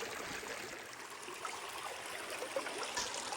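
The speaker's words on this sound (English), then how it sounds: "the water is just barely trickling down this little creek" Water trickles gently down a small, shallow creek, a steady close babble of running water heard alone with no voices.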